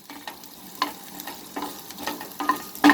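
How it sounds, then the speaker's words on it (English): Sliced onion fries on a medium flame in a pan, giving a steady soft sizzle broken by scattered sharp clicks and spatula scrapes, ending on a louder clatter; no talking. "we will now cook this onion"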